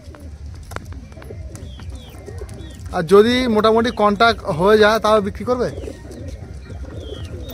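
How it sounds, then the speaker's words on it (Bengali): Pigeons in a loft with two males and a single female, cooing in soft repeated calls under steady nearby talk, the rounded cooing phrases stacking up loudest in the middle of the stretch. "3টে পায়রা আমি একসঙ্গে দেখাচ্ছি"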